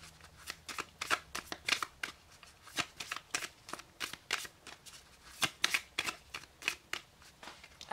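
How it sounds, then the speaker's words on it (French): Lenormand oracle cards being shuffled by hand: a rapid series of crisp, close riffling flicks in irregular bursts, quiet and on their own with no talking. "avec le petit Le Normand, on va tirer deux ou trois cartes"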